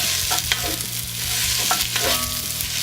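Onions caramelising in a cast iron pot on a Kamado grill, a steady sizzle and fry with occasional scrapes and stirring strokes, close and continuous with no talking.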